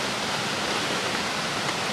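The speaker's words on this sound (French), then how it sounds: "là il y a une petite cascade qui passe" A small waterfall in the Amazon jungle pours in a steady, dense rush of splashing water, close and continuous with no voices.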